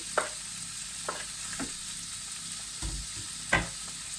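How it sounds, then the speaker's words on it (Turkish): Quiet steady sizzling of diced chicken breast frying in a pan, with a few soft scraping stirs and taps of a utensil. "Tavuk göğsümü kuşbaşı kuşbaşı doğradım ve şu an tavama koyuyorum."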